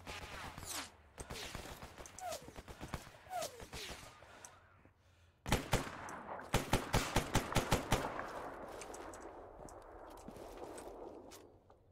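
Gunfire in S.T.A.L.K.E.R. Anomaly cracks out in scattered single shots and then a rapid burst of sharp, loud reports, with faint movement and a voice talking quietly between them.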